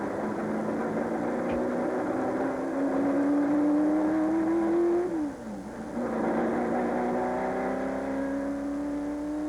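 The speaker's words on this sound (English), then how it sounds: "To appreciate a GT40's performance, let's watch Sterling Moss negotiate the high-speed Le Mans course." A Ford GT40 race car driving the high-speed Le Mans circuit, its engine holding a loud, steady drone that climbs gradually in pitch, dips sharply around a gear change, then rises again.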